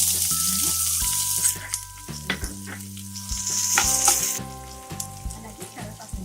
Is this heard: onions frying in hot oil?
yes